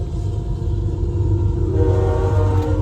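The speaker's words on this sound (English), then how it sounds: "here comes another train" A Canadian Pacific freight train rumbles past loudly and steadily nearby, with a horn sounding over the heavy rolling noise.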